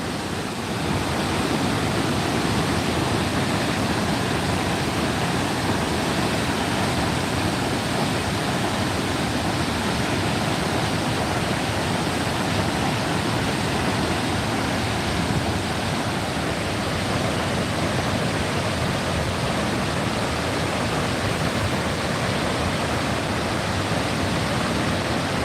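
Augrabies Falls roars at a flow of 850,000 liters per second, a dense, unbroken wall of rushing water that holds loud and steady throughout with no voices.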